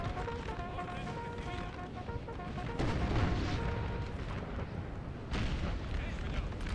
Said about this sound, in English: The infantry here all using that windmill as a bit of barricade from the artillery, which is trying to do a lot of damage right now.